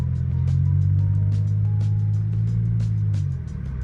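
Steady low engine hum of a car driving, loud and close as from inside the cabin, with faint rattles and ticks over the drone.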